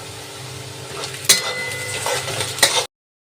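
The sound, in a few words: onion frying in oil with mutton fat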